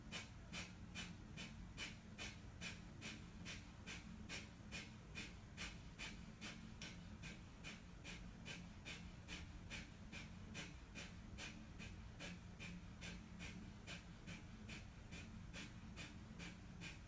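Rapid, rhythmic pranayama breathing, a round of 50 forceful breaths delivered at a steady quick pace with sharp, evenly spaced exhalations over constant background hiss, faint overall.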